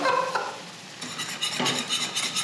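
Milk is whisked into a béchamel sauce in a pan, a quiet, steady scraping and swishing of the whisk with some faint sizzle. Rhythmic strokes pick up in the second half, close by and with no talk.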